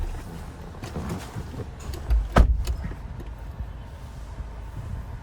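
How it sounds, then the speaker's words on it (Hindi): Car door of a Maruti Brezza swung shut with a single solid thump midway, heard close inside the cabin over a low background hum. "गाड़ी का डोर बंद कर दो।"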